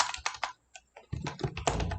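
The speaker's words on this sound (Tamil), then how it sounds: "டைம் டைப் பண்ணிக்கிறேன்." Keys on a computer keyboard clatter in a quick, uneven burst of close, soft clicks, with a brief pause midway, while text is entered in Microsoft Word.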